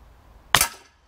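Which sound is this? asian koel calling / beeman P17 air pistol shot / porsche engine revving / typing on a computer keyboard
beeman P17 air pistol shot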